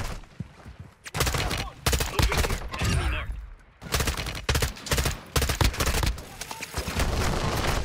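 Heavy automatic gunfire in Call of Duty DMZ, loud bursts and sustained sprays with brief pauses, mixed with game effects and occasional voices underneath.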